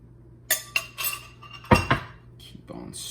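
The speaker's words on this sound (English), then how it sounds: "Keep on stirring, mix that up good." Utensil clinking against a bowl while gelatin, coffee and liqueur are stirred into a cream mixture for zebra domes: a few sharp metallic taps and scrapes, close and fairly loud, with no talk.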